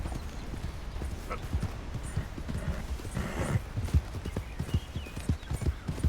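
Steady clip-clop of hooves from a Perlino Andalusian horse in Red Dead Redemption 2, a continuous close rhythmic gait with a brief whinny-like snort, no talking.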